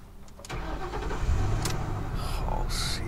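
A V8 car engine cranks and catches at close range, then keeps running with a loud, steady rumble and a few light revs for the rest of the moment.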